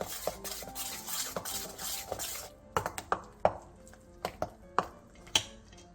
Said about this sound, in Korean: 볼에 가른 양념과 고춧가루 1컵 반, 설탕 1스푼 반, 미원 3분의 1티스푼, 유슈가 3분의 1티스푼, 다진 마늘 2스푼, 멸치 액젓 3스푼을 넣고 골고루 섞어주세요